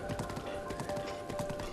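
Galloping horse hooves in Zelda Breath of the Wild, a steady rapid clip-clop rhythm that runs the whole time over a constant tonal game background.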